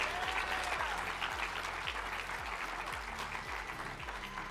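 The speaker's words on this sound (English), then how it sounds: "Big round of applause for Adrian Urban." Steady, enthusiastic applause from a crowd, sustained clapping filling the room without pause.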